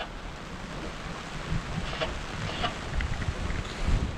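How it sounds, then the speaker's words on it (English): Rain falls on a sailing boat cracking along in a 15-knot beam wind, a steady broadband hiss with gusty wind noise and occasional brief spatters, moderately loud and with no voices. "And the rain has arrived."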